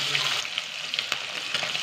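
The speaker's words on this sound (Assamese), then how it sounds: "এনেদৰে গোটেই মাছকেইপিচ ৰঙচুৱাকৈ ফ্ৰাই কৰি ল'ম ভালদৰে" Pieces of rohu fish sizzle in hot oil in a pan, a dense, steady crackling hiss with occasional sharper pops, close and continuous.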